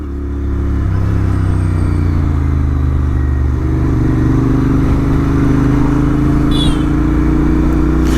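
A Royal Enfield Interceptor 650 twin fitted with an S&S camshaft revs hard toward the top end past 5,000 RPM, a loud close engine note rising steadily over several seconds with no talk.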